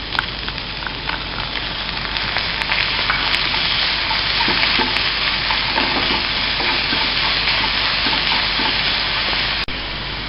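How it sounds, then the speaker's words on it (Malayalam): Chopped onion fries in a pan with salt while being stirred, a loud continuous sizzle broken by scraping and clattering strokes of the spoon. "സബോള ഒന്ന് വാടി വരുവാനായിട്ട് കുറച്ച് ഉപ്പ്, ചേർത്ത് നന്നായി ഇളക്കുക."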